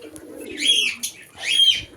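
Nearly grown pigeons call twice nearby, two short cooing phrases separated by a brief pause in a quiet setting.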